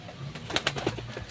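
Pigeons coo in a short burst of soft, throaty calls, close by and moderately quiet, with faint background noise.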